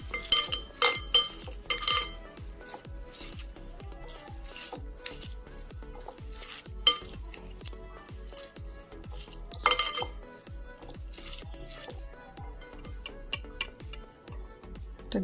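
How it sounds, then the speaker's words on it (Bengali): Mashed cabbage bharta with onion, chopped coriander, mustard oil, salt and fried dried chillies is mixed in a bowl, making quiet, regular scraping and squishing strokes with occasional clinks, repeated steadily throughout. "এটাকে আগে আমি ভালো করে মাখিয়ে নেব, তারপরে ওই মাছ মাখানোটা অ্যাড করব।"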